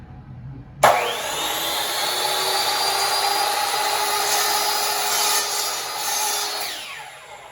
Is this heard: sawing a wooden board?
yes